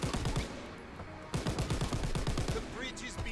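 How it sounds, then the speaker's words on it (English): Rapid bursts of automatic gunfire in the World War II shooter game Call of Duty: WW2, two dense volleys of close, crackling shots separated by a brief pause, with faint game sounds behind. "That area leaves me wide open for gunfire."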